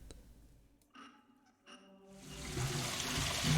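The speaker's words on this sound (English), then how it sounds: "Drains the water." Water drains in The Almost Gone after a valve is turned: a few faint clicks and small drips, then a steady rushing, gurgling flow that swells and grows louder toward the end.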